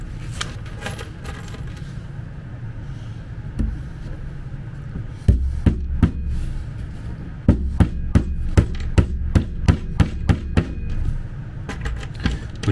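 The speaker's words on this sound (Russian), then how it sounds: "4 гвоздя в заднюю и в две боковых" Nails hammered into the back and side panels of a rolling three-drawer pedestal cabinet with a lock; after a few scattered knocks, a run of sharp, evenly spaced hammer blows rings out close and loud, with light clinks in between.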